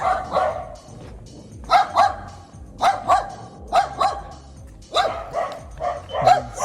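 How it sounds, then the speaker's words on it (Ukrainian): Several dogs bark in repeated bursts, nearby and fairly loud, with short pauses between volleys of barking, outdoors in Poland. "Собаки гавкають"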